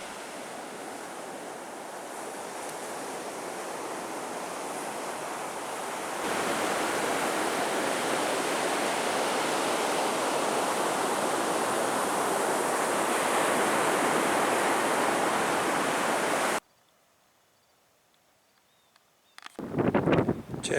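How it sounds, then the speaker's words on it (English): Shore break waves at Cape Hatteras National Seashore, a broad continuous roar of surf that swells louder partway through, then cuts to near silence before a brief loud burst at the end. "The redolent salty air and ambient shore break awaken past memories."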